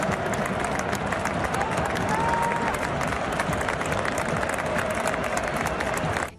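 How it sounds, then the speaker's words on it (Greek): Fans in a stadium break into sustained applause to honour a football star, a dense, loud wall of clapping and crowd noise that holds steady before cutting off. "οι φίλαθλοι ξέσπασαν σε χειροκροτήματα"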